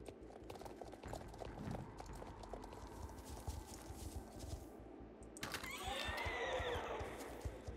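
Horse in the online game Star Stable: steady clip-clop of hooves, then a loud neigh rising near the end, over faint background game sounds.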